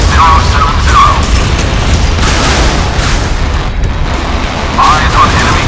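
A warship firing a missile in the Modern Warships naval combat game, a loud continuous booming roar of launch and blasts with a voice talking over it throughout.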